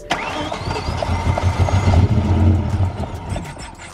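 A BMW M5's engine cranks repeatedly with a rhythmic churning, catching briefly and sputtering as it struggles to start, close by.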